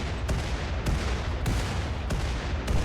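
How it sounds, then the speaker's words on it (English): Laser and torpedo explosions in the space-battle game Rimworld: a dense, continuous rumble of blasts with sharp bursts arriving at a steady, roughly regular pace. "this is all from the laser, by the way. We've got some torpedoes coming in now, but all of these kind of initial explosions"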